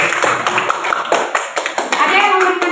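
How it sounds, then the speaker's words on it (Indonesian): A short burst of hand clapping from a small group at a teacher training session, with a voice talking over it. "tepuk tangan untuk kelompok puisi"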